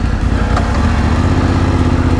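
A motorcycle engine running steadily at low revs on a touring trip through the Dades Gorge in Morocco, a loud, constant rumbling drone, close by.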